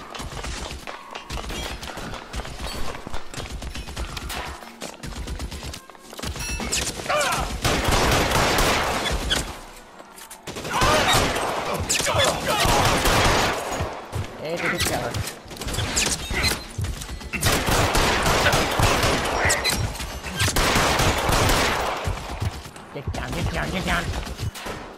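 Covering fire in a video game: sustained bursts of automatic gunfire and rapid shots fill the scene, loud and dense with short pauses between volleys.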